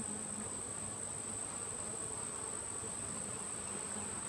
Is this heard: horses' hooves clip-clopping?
no